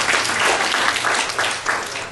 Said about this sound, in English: Prasad, can I have a round of applause for being honest?